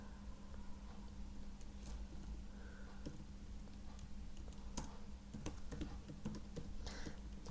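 Quiet clicking of keys on a computer keyboard as a short phrase is typed in, with irregular taps over a low steady hum.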